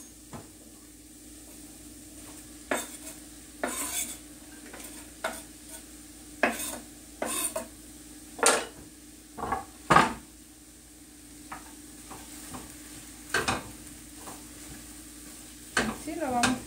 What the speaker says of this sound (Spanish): Ahorita vamos a agregar lo que es la cebolla y el ajo.